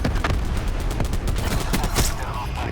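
Thresher scorestreak gunfire in Call of Duty Black Ops 4 rattles in a dense, loud fusillade of rapid shots and booms.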